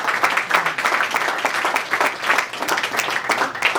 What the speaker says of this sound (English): let's give this panelist a round of applause.